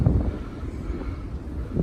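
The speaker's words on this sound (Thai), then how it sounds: "ลมโกรกเลยครับ" Steady wind buffeting the microphone on Hong Island, Thailand, on a cloudy December day, a low rumbling roar that continues throughout with no voices.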